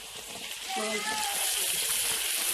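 Chicken pieces sizzling with onions in a hot pan: a steady, bright frying hiss that grows fuller as the chicken goes in, continuous and close, with someone talking over it.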